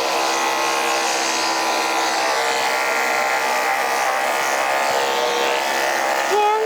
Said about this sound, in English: finish up his furnishings, but pattern trim and blended with the vac system going in the correct direction